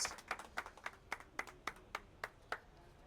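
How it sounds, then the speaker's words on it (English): A small group claps in welcome for Urban Touch at a business fashion event, about a dozen sharp, evenly spaced claps, fairly faint and close, with no talk. "a round of applause for Urban Touch"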